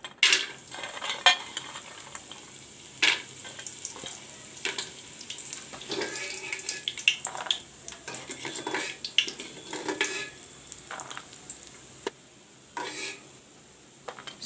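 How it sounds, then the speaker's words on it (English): Soya beans frying in oil in a pan, a quiet sizzle under intermittent stirring scrapes and clinks of a utensil against the cookware. "I have put the oil to fry the soya bean. First of all, I'll fry the soya bean."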